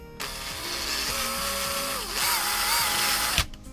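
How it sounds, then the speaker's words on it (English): A power drill bores out the wheel hole of a roller luggage case to a 1/4 inch size, a loud steady whine with a pitch that sags under load, close up and without talk, stopping abruptly at the end. "Now you're going to want to drill this out to 1/4 inch."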